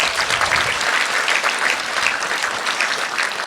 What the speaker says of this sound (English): So I'd like you to give yourselves another round of applause.